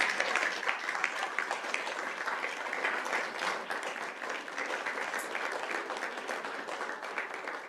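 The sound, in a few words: applause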